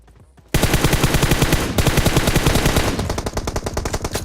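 Automatic gunfire in the PUBG Mobile battle royale game erupts suddenly after a brief quiet moment, loud rapid bursts continuing for several seconds with a shift in tone partway through.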